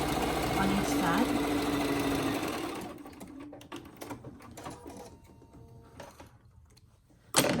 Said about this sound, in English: but I like a top stitch on the top and the bottom.